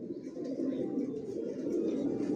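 A young Johnson grizzle racing homer pigeon coos softly and steadily at close range, a low, rolling burble that continues throughout.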